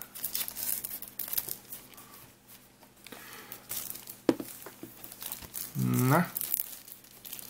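Plastic shrink film crinkles and tears as it is peeled off a PS4 game case for The Ninja Saviors: Return of the Warriors, with scattered rustles and a louder crackling burst near the end, under occasional speech.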